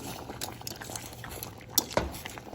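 Spaghetti cooking in a pot of boiling water, fairly quiet: a steady, soft bubbling hiss runs throughout, with two brief sharper clinks near the end.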